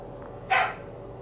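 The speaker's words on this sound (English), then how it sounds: "I love when Chew barks." Chew, a dog in the video game The Invincible, lets out a single short bark, sharp and fairly close, over a quiet ambient hum.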